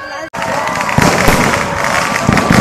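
Dense, continuous crackling of firecrackers and fireworks with sharp pops throughout, loud and close, after a brief silence at the start, with crowd noise mixed in, at an Ayyappa temple fair.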